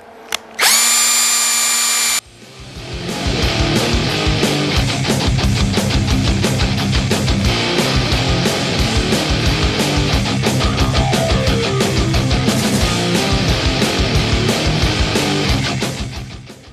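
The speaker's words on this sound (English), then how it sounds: "Now I can drill a handful of pilot holes here." A power drill bores a handful of pilot holes while an explosion-proof vent fan box for a spray booth is being assembled. A short high whine comes first, then a long, loud, steady drilling run with a rhythmic chatter, close up and with no talking.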